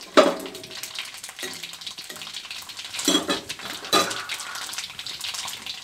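Garlic cloves fry with cumin seeds and asafoetida in a home kitchen pan, a steady oily sizzle broken by a few sharp clanks of a spoon against the pan.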